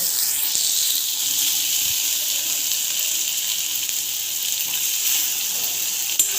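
Stuffed okra frying in oil in a pan gives a steady, close, bright sizzle and hiss that holds evenly throughout, with a small knock near the end.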